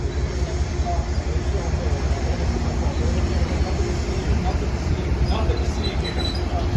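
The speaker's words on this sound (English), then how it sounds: "There's some M7As pulling into the station for an outbound train." Metro-North M7A commuter trains pull into a station, giving a steady broadband rumble and rolling hum that holds throughout, with faint higher tones near the end.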